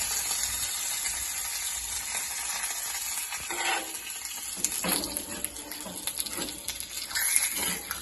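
Hot dried red chilli tempering is poured into beetroot pachadi, giving a bright crackling sizzle that flares and then settles into a steady hiss, close and fairly loud.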